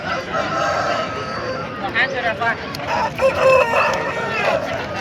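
Rooster at a busy Sunday hen market in Pileru, its drawn-out crow rising amid a dense crowd murmur, with people talking nearby throughout.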